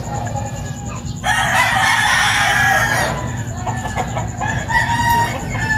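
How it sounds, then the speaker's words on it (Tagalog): Several chickens and roosters crow and cluck noisily in a rural Filipino yard, the calls overlapping steadily from near to mid-distance for the whole stretch. "Ang ingay ng mga manok."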